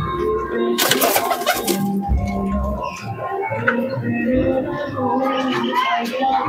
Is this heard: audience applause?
no